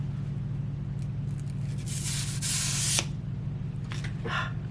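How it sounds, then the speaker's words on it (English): A plastic sheet is peeled off a makeup palette with a crisp, crackling rip up close, followed by a few lighter crinkles. "Let me get rid of this plastic sheet."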